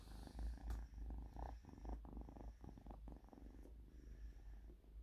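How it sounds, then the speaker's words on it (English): A cat purrs softly and steadily up close, a low rhythmic rumble with a few small rustles and bumps. "I think you can hear the cat sound going"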